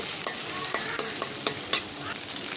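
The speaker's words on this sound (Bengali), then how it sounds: "একটু ভেজে নেব তেলের সাথে" Garlic and ginger paste fries in hot oil with a constant crackling sizzle, punctuated by regular scrapes and taps of a spoon stirring the pan, close and fairly loud, without talk.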